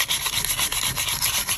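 Rapid rubbing across the surface of a freshly cleaned frying pan after a dishwasher run, a brisk, rhythmic scratchy swishing, close and fairly loud, with no talking.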